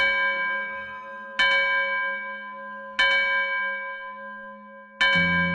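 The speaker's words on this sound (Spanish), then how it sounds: "el sonido de la campana que da la señal de la conclusión del carnaval sonó" A church bell rings to mark the end of carnival, three clear resonant strikes spaced about a second and a half apart, each ringing out and decaying before the next.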